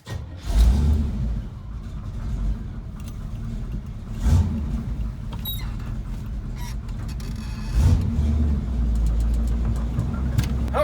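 An old Chevy square body farm truck with a 454 big block V8 rumbles loudly on a test run, its deep engine drone swelling in three revving surges while chickens cluck faintly in the background.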